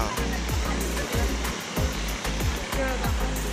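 Large sea waves break and wash onto a beach on the Raigad coast, a steady loud roar of surf with repeated surges rolling in close by.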